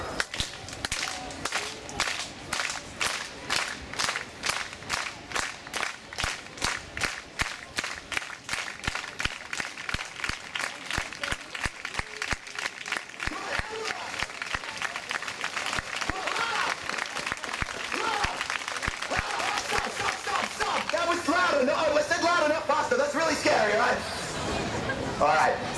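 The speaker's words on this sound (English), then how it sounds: "So every time I take a step, you guys clap in time with my feet." Audience at a sword-swallowing contortionist street show claps in steady rhythmic unison with the performer's steps, sharp regular claps that gradually speed up and blur into continuous applause with crowd noise.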